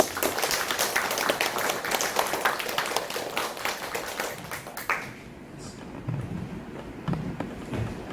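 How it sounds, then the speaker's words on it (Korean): Church congregation applauding during a Sunday worship service, a dense burst of many hands clapping that lasts about five seconds, then stops abruptly, leaving quiet room tone with a few faint low thumps. "박수 한번 주시기 바랍니다."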